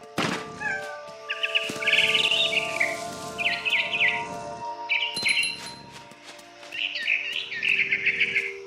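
Bird chirping in the video game What Remains of Edith Finch, repeated short bursts of tweeting calls over a quiet game soundtrack with soft thumps.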